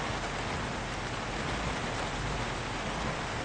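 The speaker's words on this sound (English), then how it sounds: "It does not sound like this rain is going to ease up in the slightest." Steady heavy rain pours down in the Project Zomboid video game, a dense unbroken hiss that stays close and even throughout with no voices.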